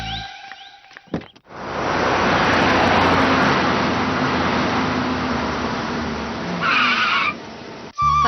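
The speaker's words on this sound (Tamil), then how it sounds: "ஸ்ரீதர், வண்டி எடுடா," A car pulls away, its engine and tire noise rising into a loud, sustained roar after a brief clatter, then fading slightly before a cut at the end; no speech.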